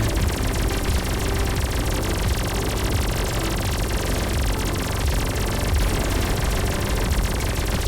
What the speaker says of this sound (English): Spinning up Lost Cannon again.